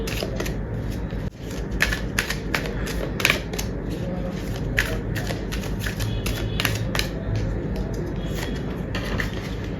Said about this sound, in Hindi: एक कार्ड और लेते हैं आपके लिए.